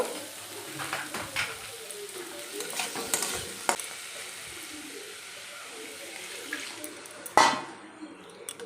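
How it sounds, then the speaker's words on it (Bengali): Water poured onto spiced masala in a cooking pan, giving soft hissing and bubbling with stirring clinks, quiet and close, ending in a sharper metallic scrape. "মশলা দিয়ে ভালো করে কষানো হয়ে গেছে এবার আমি জল দিয়ে দেব"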